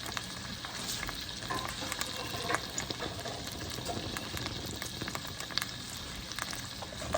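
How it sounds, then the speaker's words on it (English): Russet potatoes fry in a pan of butter and beef drippings, giving a dense, continuous sizzle with small pops and crackles throughout, close and steady, with no speech. "mostly butter, some drippings from the beef. I'm going to use that, and I'm going to partially cook my potatoes"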